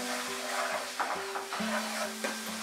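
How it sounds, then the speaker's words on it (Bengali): Spice masala with a little added water for chicken do pyaza is stir-fried over medium heat, giving a soft, steady sizzle broken by a few scraping stirring strokes, with a faint tonal hum beneath. "মাঝারি আঁচেই আমি মশলাটাকে কষাচ্ছি।"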